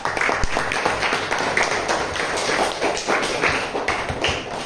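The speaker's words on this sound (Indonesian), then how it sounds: "Tepuk tangan dulu untuk kelompok 3" A classroom of students claps for a group that has just presented, a close, busy burst of many hands with sharp individual slaps and a thump or two, steady for several seconds.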